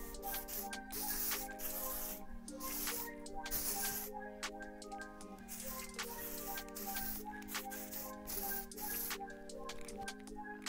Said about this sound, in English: I might do a little texture spray at the end now